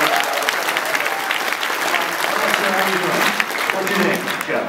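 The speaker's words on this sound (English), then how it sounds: "Nice round of applause for Clatu." Loud, dense applause from a comic con crowd at a celebrity Q&A in Philadelphia, steady and sustained throughout, with voices mixed in under the clapping.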